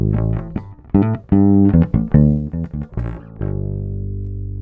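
A bass guitar played through a Creation Audio Labs Grizzly Bass distortion pedal, a run of punchy notes ending on a long, sustained fuzzy tone.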